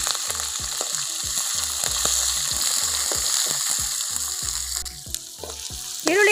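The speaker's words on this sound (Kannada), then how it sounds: "ಈರುಳ್ಳಿ ಹಾಕ್ತಾ ಇದ್ದೀನಿ." Onion sizzles and crackles in hot tempering oil with curry leaves and green chilli for a bottle gourd palya, with steady frying hiss and repeated stirring taps throughout, close and moderately loud, no talking.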